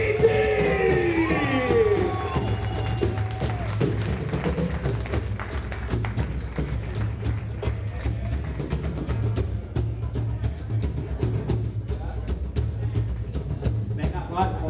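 Crowd noise rises at a live music group presentation in Madrid, with broadband clatter, taps and scattered yells sustained throughout, under a steady low hum and a brief voice at the start.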